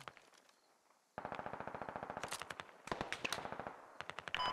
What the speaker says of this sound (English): Alright, Boxer, are you under fire right now?